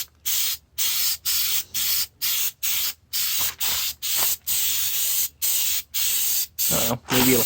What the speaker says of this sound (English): Spray a little bit on the gray there, especially along the edge seams.